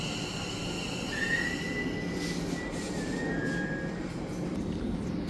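A train pulls out of Selly Oak station, giving a steady rumble with long, thin wheel squeals rising above it, heard from the platform at moderate distance.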